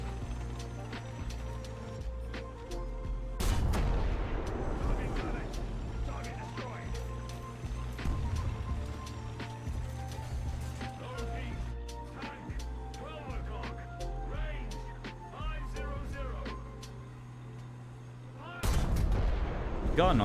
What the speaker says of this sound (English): Gun on this thing though sounds so nice. Just that ka-chunk sound right before it fires, like as the shell comes out.